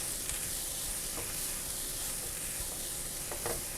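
Chicken pieces frying in a hot pan, with a dense, continuous sizzle and a few brief stirring scrapes, close and steady, no voices.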